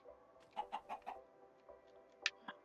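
Chickens in the Minecraft video game cluck in a quick run of short, bright calls, followed by a couple of sharper, separate clucks, faint and with no other sound around them.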